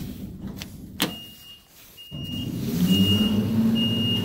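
A 2002 Schindler hydraulic freight elevator in a closed department store stock room closes its door, with a sharp clank, a pause, another thud, then a rising mechanical hum and faint beeping tones.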